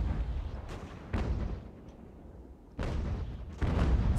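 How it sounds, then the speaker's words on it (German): Heavy cannon broadsides from sailing warships in Ultimate Admiral Age of Sail, a naval battle on rough seas, booming out in several loud, rumbling bursts with no talk. "bei dem hohen Wellengang können gar nicht mal so viele Kanonen von uns schießen"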